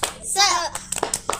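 Children in an elementary classroom give a short rhythmic class clap with brief bright calls, a burst of small hands and young voices close by, led by a teacher.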